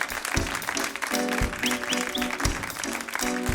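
A crowd claps steadily over live French chanson band music at a 2009 concert, the applause dense and continuous alongside regular drum hits.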